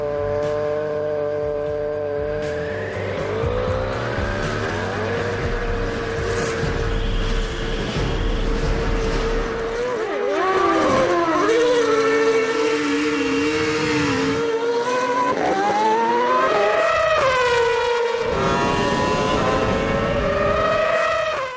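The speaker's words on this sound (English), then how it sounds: "They're about to drag race for a quarter of a mile." A Formula One car roars through a quarter-mile drag race, its engine note climbing in pitch through repeated rapid gear shifts, loud and sustained, with a second high-revving engine wailing alongside.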